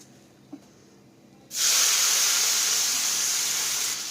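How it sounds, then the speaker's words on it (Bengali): Chopped onions hitting hot oil with cinnamon and a bay leaf for a mutton dish, bursting into a sudden loud, close, steady hiss and sizzle after a short quiet start with one small knock, no talk. "এরপর এর মধ্যে অ্যাড করে দেবো কিছু কুচনো পেঁয়াজ"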